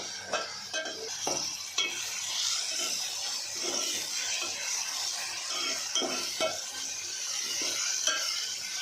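Chopped tomatoes drop into a pan of onions for gathiya nu shak, then a steady sizzle runs throughout with repeated scraping stirs and clinks of a spoon against the pan, close and moderately loud with no talking.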